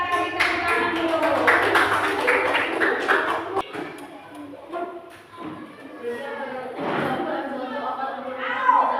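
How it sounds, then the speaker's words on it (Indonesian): A classroom audience applauds, a dense patter of clapping hands for the first few seconds, then it thins out and gives way to scattered noise and voices. "Kita kasih tepuk tangan dulu."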